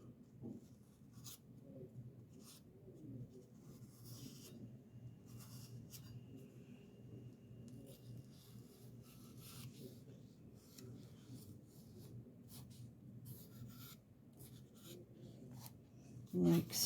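A pen or marker traces an outline on felt along a fold, a faint, steady scratchy rubbing that continues quietly for many seconds.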